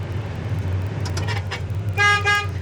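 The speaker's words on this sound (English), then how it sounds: "Horn works" Horn on a 1967 Chevrolet Chevelle SS, two short toots near the end over a steady low engine hum, with faint clicks before them.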